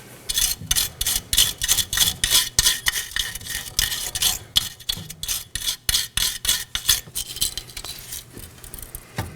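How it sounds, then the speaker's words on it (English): Stiff wire brush scrubbing the hub mating surfaces during a rear wheel bearing and hub replacement on a 2013-2019 Nissan Sentra, a close, rapid rasping of repeated strokes with no talk. "Now I'm going to prep my mating surfaces with a wire brush."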